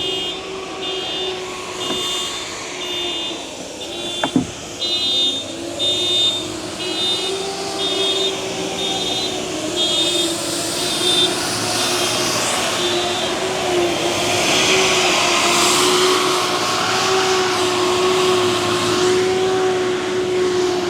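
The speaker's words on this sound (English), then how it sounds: "We had street sweeping today." A street sweeper passes along a residential street with a steady mechanical hum and brushing whir that grows louder and closer toward the end, with an intermittent beeping tone early on.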